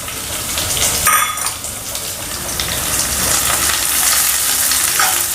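Vertically sliced onions sizzling in a pan while being stirred for bitter gourd curry, a steady close frying hiss with scraping stirs.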